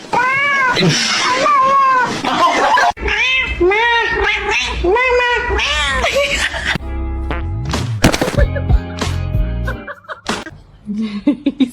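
A cat lets out a series of drawn-out, wavering meows up close, followed by scuffling and clattering noises near the end.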